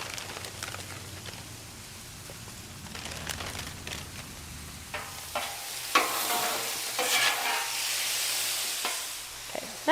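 Balsamic chicken and apples cook on a Blackstone griddle, making a steady sizzle and fry with scattered stirring scrapes. The hiss builds toward the end, with no talking.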